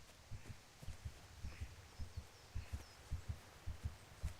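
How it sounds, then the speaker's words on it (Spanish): Heartbeat sound effect in the medieval game Kingdom Come: Deliverance, a soft, low double-thump pulse repeating at a steady, fairly quick rhythm throughout, faint and muffled against a quiet background. "se escucha como los latidos el corazón del weón"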